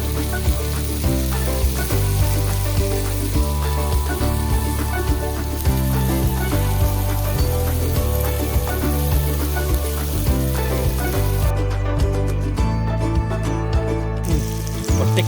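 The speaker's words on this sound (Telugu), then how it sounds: "అంతే, ఫిష్ ఫ్రై రెడీ." A giant walking catfish fries in hot oil with a loud, steady, continuous sizzle and bubbling that holds for the whole stretch, with no talk over it.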